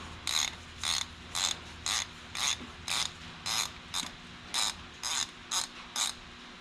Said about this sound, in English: I'm going to take this bolt loose from the transmission